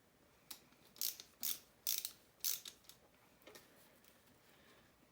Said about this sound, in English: Phillips ratcheting screwdriver.